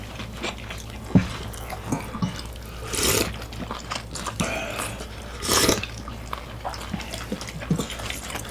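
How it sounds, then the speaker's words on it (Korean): Crunchy bites and chewing of spicy fried chicken and spicy squid during a couple's mukbang, with a few sharp crisp crunches standing out over quieter chewing close to the mic. "되게 바삭바삭거려."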